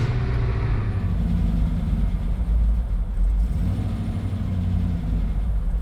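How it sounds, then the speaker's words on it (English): A V8-swapped Mazda MX-5 with a suspected overheated engine and an erratic idle runs at a steady idle, giving off a loud, continuous low rumble with no pauses throughout. "I'm gonna go and start the car again, monitor the coolant, monitor my gauges."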